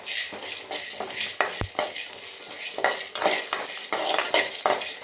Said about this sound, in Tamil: இதில் இந்த கடலைப்பருப்பு, கருவேப்பிலை, சீரகம், மிளகு எல்லாத்தையுமே ட்ரையாக ரோஸ்ட் பண்ணிக்கலாம்.